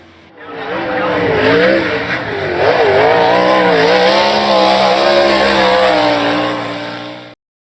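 World of Outlaws sprint cars race at Main Street Speedway, a loud, close engine roar whose pitch rises and falls as the cars accelerate and lift through the turns, swelling up and then fading near the end.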